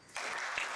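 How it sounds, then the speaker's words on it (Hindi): A seminar audience breaks into brief applause, a short burst of claps that starts abruptly and fills the rest of the moment, fairly faint and without talk. "इन तीनों लोगों के लिए ताली हो जाओ।"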